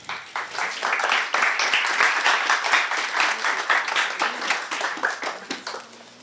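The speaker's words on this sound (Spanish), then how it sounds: "Por favor, un aplauso" Lively audience applause for panel speakers at a university humanities forum, dense crowd clapping that swells quickly, holds steady for several seconds, then tapers off near the end.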